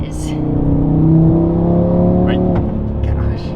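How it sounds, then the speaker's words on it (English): An Audi RS3 exhaust revs loud and close, a steady droning engine tone climbing and dropping with shifts, with crackles near the end; people talk over it. "now with all the drama with that exhaust, you get the exotic tone"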